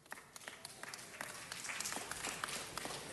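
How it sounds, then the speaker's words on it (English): Scattered audience applause at a city council presentation, a faint, distant patter of many hands clapping that swells slightly, with no voices over it. "They all deserve a huge round of applause."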